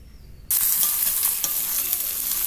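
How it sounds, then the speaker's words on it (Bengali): Onions for a Bengali chicken curry drop into hot oil in a pan, bursting into a sudden loud sizzle after a quiet half second, then frying steadily and close with light stirring and no talk. "পেঁয়াজগুলো ভাজা হচ্ছে।"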